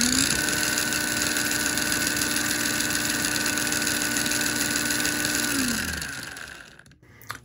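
Upgraded motor of a 1:24 scale Jada Toys Lightning McQueen RC car, taped down and running on a 2S battery, spins at a steady high-pitched whine for about six seconds, then spools down and fades out.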